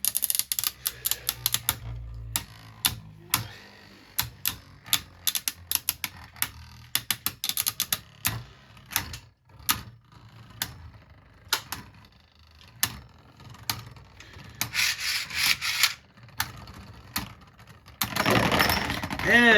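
Beyblade Burst spinning tops battling in a stadium: rapid clicking and clattering collisions come in dense irregular bursts, ending in a louder scraping rush, with brief talk over it.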